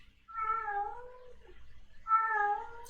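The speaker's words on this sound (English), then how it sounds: "you would think that cat has lost its last friend." A house cat meows twice, close and clear: two long, drawn-out, plaintive cries separated by a short pause, with a quiet room behind them.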